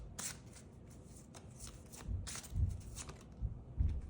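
Tarot cards handled and drawn from a deck, soft close riffling and sliding swishes in several short bursts, faint and quiet.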